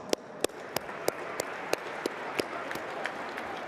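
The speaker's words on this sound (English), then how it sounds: "Can we just get a round of applause?" Light applause from a small audience at a boxing press conference in Riyadh, with sharp individual claps standing out over a soft, steady wash of hands, moderately distant and fairly quiet.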